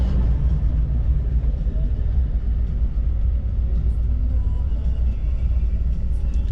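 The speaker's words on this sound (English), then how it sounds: "let's get back in the car and drive the last few miles and get there" Steady low road rumble inside a car driving the last miles toward Yosemite Valley, a constant loud drone of tyres and engine with no breaks and no talk.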